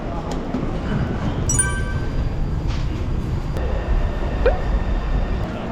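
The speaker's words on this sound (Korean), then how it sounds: "대만 지하철은 이런 느낌인데 약간 한국 느낌이랑 좀 다르죠?" A Taipei metro subway train rumbles steadily during a ride, with constant low roar, a few faint metallic squeals and clinks, and muffled voices in the car.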